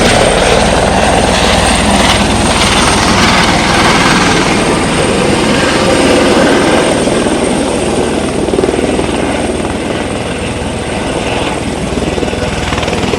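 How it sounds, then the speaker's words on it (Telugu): A helicopter lands at a heliport in Monaco, its rotor and turbine roaring loudly and steadily from close by for the whole stretch, with no voices over it. "సో హెలికాప్టర్ వస్తుంది, మనమైతే ట్రై చేద్దాం రికార్డ్ చేయడానికి ల్యాండింగ్."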